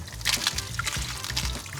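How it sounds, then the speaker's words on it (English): Water pours and splashes continuously over a slice of toasted bread to soak it, close and fairly loud, while a cook prepares Egyptian stuffed grape leaves in a van in the mountains. "So just soaking this bread in some water."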